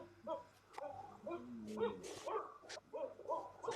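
A dog barks and whimpers in short yips and bow-wows mixed with a person talking, the sounds faint and intermittent in an indoor live-stream setting.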